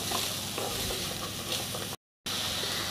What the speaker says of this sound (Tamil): கடைசியில் கேப்சிகம் போட்டுக்கலாம் இதுவும் நல்லா வதங்கட்டும்